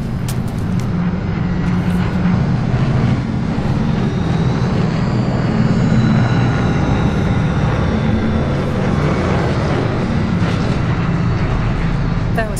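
A drone hovering in the video game Cyberpunk 2077 Phantom Liberty, a loud, steady rushing mechanical drone that fills the whole stretch with little change.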